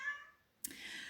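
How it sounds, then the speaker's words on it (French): A small female pet cat gives a high, drawn-out meow, faint and close in a quiet room, followed by a sudden louder noise. "Il y a ma petite chatte qui est en train de miauler."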